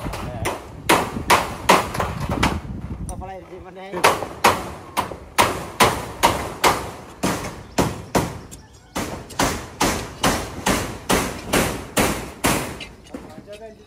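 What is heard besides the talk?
hammering nails into wood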